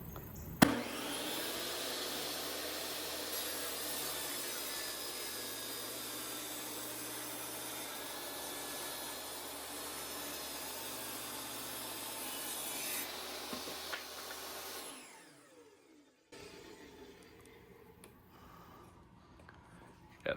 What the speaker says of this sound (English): I connected a DeWalt table saw. Let's do one cut.